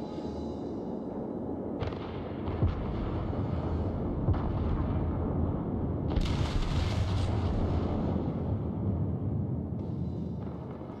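Heavy naval gunfire rumbles from a battleship in the World of Warships game, with Japanese battleship Myogi firing a few broad booming salvos over a constant low engine and water drone, loud and continuous.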